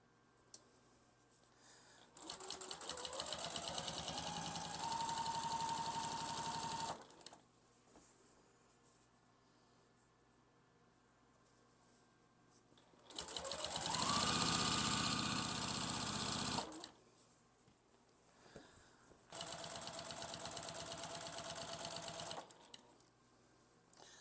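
Three steady stretches of a sewing machine stitching a baby quilt, each several seconds long and separated by quiet gaps, with the motor whirring evenly and close by.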